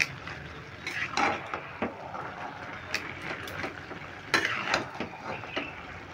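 Fish heads and cabbage being stirred in a frying pan for a Bengali katla fish-head cabbage dish, with soft scraping strokes and a low sizzle, several sharper spatula scrapes standing out near the pan.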